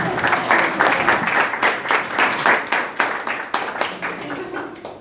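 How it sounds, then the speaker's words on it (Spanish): A church congregation claps together in a lively burst that gradually thins out, with a few voices mixed in among the hands. "Den un aplauso al Señor, amén."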